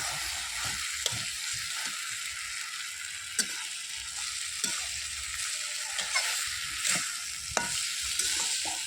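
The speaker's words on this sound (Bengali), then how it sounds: "এবার একটু নেড়ে দিই ভালো করে।" A pan of bottle gourd curry with cumin and coriander powder is stirred over a wood fire: a constant frying sizzle runs throughout, broken by light, irregular scraping knocks of the spoon against the pan.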